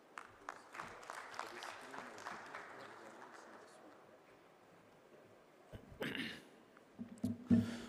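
Audience applause in a conference hall for a speaker at a water-systems session, a dense patter of clapping that thins out midway, with louder scattered claps and handling noise near the end.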